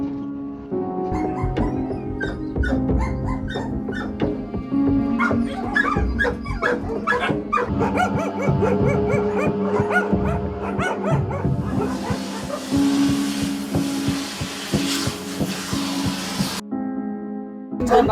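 Dogs at a dog meat farm barking and whimpering, several animals yipping and howling in overlapping bursts at close range, loud and continuous, ending in a brief lull.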